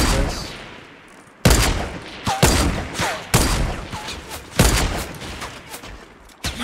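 Rapid bursts of gunfire in Fortnite, several loud sharp volleys in quick succession with short gaps between, up close and mostly alone with little talk.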